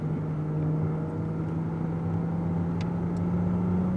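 A Ferrari 296 GTB accelerates on the Nogaro circuit, its engine a steady, droning hum heard from inside the car, fairly loud and continuous with only slight shifts in pitch.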